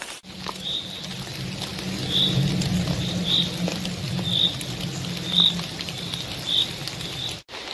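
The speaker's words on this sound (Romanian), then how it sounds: "Începe să-i dea și o ploaie." Rain patters steadily on leaves in a Romanian forest, a soft continuous hiss with occasional louder drops and faint bird chirps repeating in the background, no voices.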